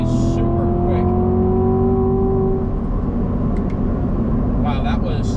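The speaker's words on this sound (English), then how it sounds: "I want to test out this acceleration a little more in sport mode right now." A 2019 Corvette C7 1LT with an 8-speed automatic, heard from inside and accelerating hard in sport mode, a loud, rising engine drone climbing through the revs before a shift settles it, while a voice talks over it.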